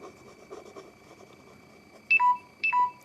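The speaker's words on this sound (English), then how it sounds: "Oh, shut up, phone." A dying phone sounds its low-battery alert as two short, loud electronic beep pairs, close by, after soft scratching from drawing.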